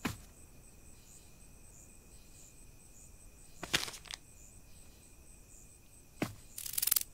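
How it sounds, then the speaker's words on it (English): Rhythmic, pulsing high buzz of a cicada in a horror video game night scene, steady and moderately faint, broken by a few sharp clicks and thuds. "cicada"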